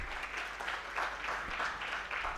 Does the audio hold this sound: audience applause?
yes